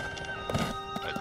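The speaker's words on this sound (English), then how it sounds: "Seems like a fast horse." A horse in Zelda: Tears of the Kingdom gives a brief neigh alongside a few hollow hoof clops, heard close over a steady game background.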